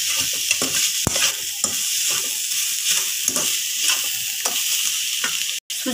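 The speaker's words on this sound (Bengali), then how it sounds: "একটু নেড়ে নেব যাতে নারকেলের সাথে সুজিটা মিক্স হয়ে যায়" Grated coconut and semolina fry in a pan under a bright steady sizzle, with regular close scraping strokes as a spatula stirs them together and one sharp clack against the pan.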